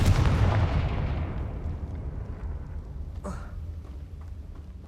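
A Confringo fire spell in Hogwarts Legacy lands as a heavy booming blast that rolls and fades over several seconds, followed by a brief whooshing flare.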